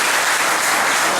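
An audience applauds in a hall, a dense, steady roar of clapping throughout this brief moment.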